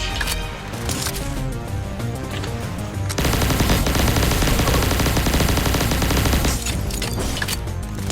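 Neutron Pulsator energy weapon in Pixel Gun 3D fires rapid bursts of shots, dense machine-gun-like rattling that intensifies midway and continues loudly throughout, with no talk.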